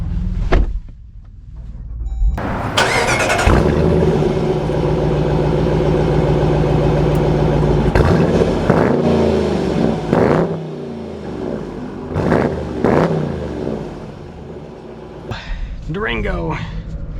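A fully loaded 2025 Dodge Durango R/T with a Hemi V8 starts up and begins to move, its engine rumbling steadily with rising revs and a few clunks and shifts, while someone talks over it almost the whole time.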